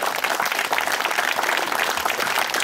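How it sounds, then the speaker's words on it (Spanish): A church congregation breaks into strong applause offered to Jesus Christ, a dense, continuous wash of clapping that holds steady and loud through the whole stretch. "Brindele un fuerte aplauso al Señor Jesucristo."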